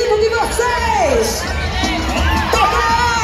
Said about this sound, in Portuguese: E eu quero ouvir o grito de vocês.